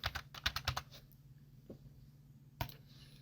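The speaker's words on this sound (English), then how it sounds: "double click on the wording, and you can type in whatever you like" Quiet, close typing on a computer keyboard: a quick burst of about eight key clicks, a pause, then one more isolated keystroke.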